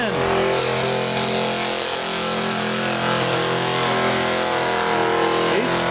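A truck engine runs hard at a truck and tractor pull, a loud sustained roar with rising and falling pitch as it strains, steady throughout.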